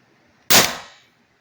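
A single sharp shot from an M17 airsoft rifle at 900 PSI output, fitted with two bolt bumpers: a loud, close, abrupt crack that decays over roughly half a second, alone with no talk.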